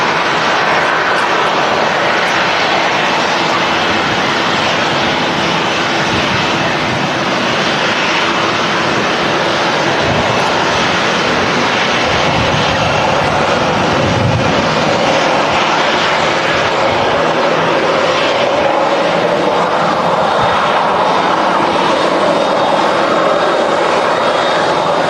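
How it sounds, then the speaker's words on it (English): A Ryanair Boeing 737 at a windy Manchester Airport gives a loud, sustained jet roar for about twenty-five seconds, with wind buffeting mixed in and no talk. "Another Ryanair 73. This is the one from Londonderry."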